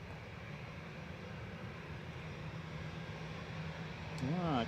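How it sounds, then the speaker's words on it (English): A Ryanair Boeing 737 Max 8 crosses the runway threshold on landing at Manchester, a low, steady jet rumble under a talking voice, growing a little louder at the end. "Coming over the threshold now is Ryanair Flight 6 from Funchal, Max 8 EI IKJ."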